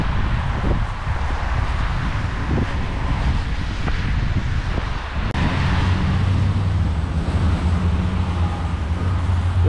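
Strong winter wind in Uzbekistan buffets the microphone in a steady, loud roar with low rumbling gusts throughout, and no voices.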